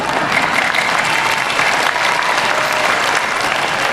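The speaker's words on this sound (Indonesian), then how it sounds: "Tepuk tangannya gimana gitu." Continuous crowd applause, a dense, even wash of many hands clapping at steady loudness for the whole stretch, with no talk on top.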